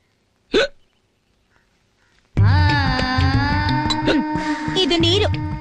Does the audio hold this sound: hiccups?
yes